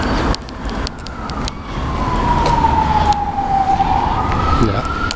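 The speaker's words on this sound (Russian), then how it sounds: "вон там пожарная машина едет" A fire engine's wailing siren sweeps down and back up in pitch as the truck drives along a city street, moderately near, over steady traffic rumble and a few sharp knocks.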